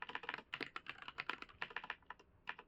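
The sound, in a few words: typing on a computer keyboard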